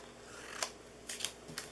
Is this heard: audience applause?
no